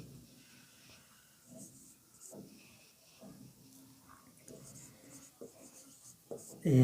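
A pen scratches out a math question by hand on paper in a classroom lesson, faint and close, in short bursts of strokes under quiet talk.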